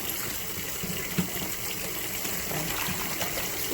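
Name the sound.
hot water poured into a bowl for shampoo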